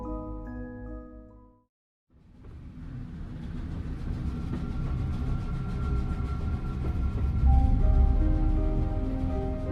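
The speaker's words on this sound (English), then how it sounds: "Ooh, we're on a train." Steady rumbling train ride from the puzzle video game The Room Three, starting after a short tonal passage and a brief silence, then a continuous loud rolling drone with faint rhythmic rail clatter, close and unbroken, with no voices.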